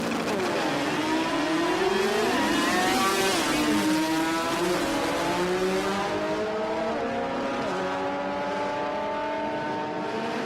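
Drag race cars at the Garrett Brisbane Jamboree, including a cranky 13B rotary in a 1300 and a 2332cc Beetle, roar loudly and continuously, engines revving and climbing through launches with rising, overlapping tones and no talk.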